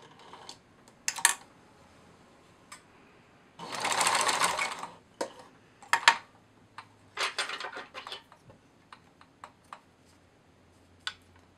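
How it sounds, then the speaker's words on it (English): A home sewing machine runs a straight stitch at its longest setting near the edge of plush fabric, with short stop-start bursts of stitching and one longer steady run, close and fairly quiet, with no talking. "So I'm just using the straight stitch function on the longest stitch setting, and I'm not back stitching before or at the end."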